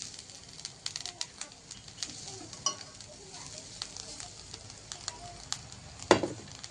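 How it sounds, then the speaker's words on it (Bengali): Grated coconut sizzles in a hot wok on a stove while a spatula stirs it, giving a soft frying crackle broken by sharp scrapes and clinks, close by and quiet, with no talk. "এবার খুন্তি দিয়ে ভালোভাবে এটাকে নেড়ে ছেড়ে নেব।"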